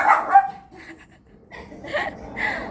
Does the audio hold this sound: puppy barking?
yes